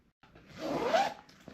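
A zipper on a weather-resistant fabric pillow cover, pulled in one smooth, close zip lasting under a second, with a faint tick at the end in a quiet room.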